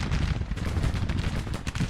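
Cannon fire booms continuously in a Grand Tactician battle, a dense, rumbling barrage of artillery shots overlapping with no pauses.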